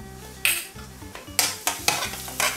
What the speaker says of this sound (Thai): ผัดจนกระเทียมเหลืองหอมก่อนนะครับตรงนี้นะครับใช้ไฟอ่อนไม่ต้องแรงมากนะครับ